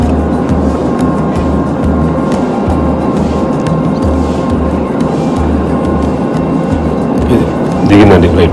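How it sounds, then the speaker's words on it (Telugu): Deep, steady engine roar inside an airplane descending to land at Jaipur airport, loud and continuous with a low rumble and a brief rise in noise near the end. "ఫ్లైట్ డౌన్ అయిపోతుంది కిందకి బాగా."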